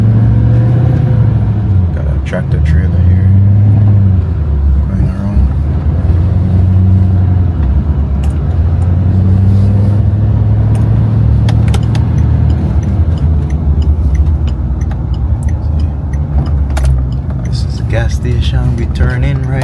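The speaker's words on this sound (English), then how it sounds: "Got a tractor trailer here going around." A tractor trailer's engine rumbles steadily nearby at a gas station, droning low and loud throughout with slight changes in pitch as it moves.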